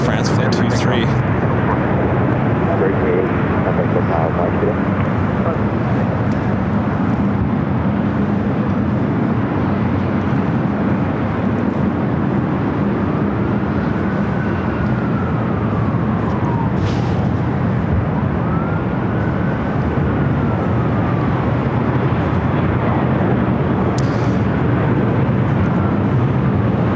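A jet airliner at LAX roars steadily and loudly through its takeoff, a broad sustained engine rumble that holds throughout with no break.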